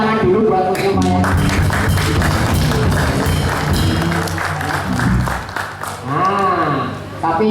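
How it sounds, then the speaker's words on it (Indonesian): Audience clapping at a wayang beber puppet performance, a loud, dense patter of applause that runs nearly the whole stretch beneath a voice speaking over it, with tonal sounds woven through. "tepuk tangan dulu buat museum wayang."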